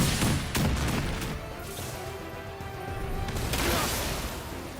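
Cannon fire in the video game One Piece Odyssey: a few sharp blasts and crashing impacts, loud at the start and again near the end, with rumbling game effects between.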